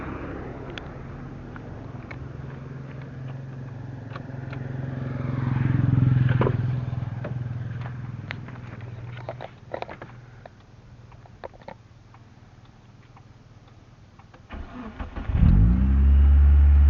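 Car engine after ECU remapping, heard idling and rising in a swell of revs, then settling with scattered clicks before a loud close engine start near the end.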